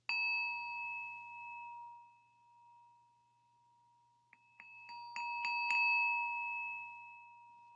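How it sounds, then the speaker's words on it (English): A meditation bell rings out with a clear sustained tone that slowly fades, followed by a cluster of several quicker, brighter strikes ringing together near the end. "So, just gonna ring the bell now."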